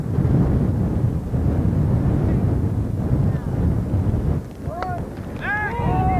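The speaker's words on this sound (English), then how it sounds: "the wind is very, very strong today" Strong wind buffets the microphone at an outdoor 1990 school baseball game, a continuous loud low rumble that eases briefly near the end, with faint chirpy sounds over it.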